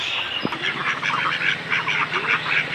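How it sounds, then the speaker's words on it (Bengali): A flock of ducks quacks nearby in rapid, overlapping bursts that carry on steadily throughout. "এই হাঁসগুলো আমার ভাবির অনেক ডিম পারে প্রতিদিন একটা করে ডিম দেয়"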